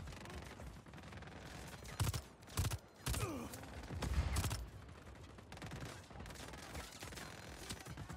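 Distant gunfire in the open-world action game Just Cause 4 crackles through a steady wash of game noise, with several louder shots clustered in the middle, all fairly faint and with no talking.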